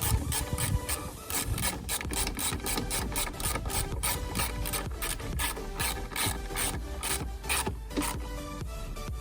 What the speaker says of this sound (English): I'm going to tighten this in.